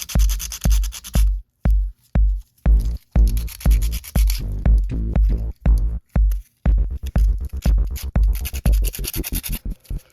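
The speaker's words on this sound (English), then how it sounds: "it's the easiest time to sand it down and clean it up" Concrete faux ceramic magnet, freshly demolded and still soft, being sanded by hand: loud close gritty scratching strokes in quick repeated bursts with brief pauses, no talk.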